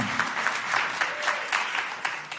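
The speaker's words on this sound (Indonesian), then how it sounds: "Kasih tepuk tangan dulu buat Tuhan." A church congregation bursts into sustained applause during a service, a dense wash of many hands clapping at a moderate distance for a couple of seconds.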